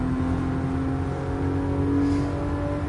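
Toyota A90 Supra engine in Gran Turismo Sport at Tsukuba, holding a steady, droning note under light throttle with a faint rise near the end, continuous and close.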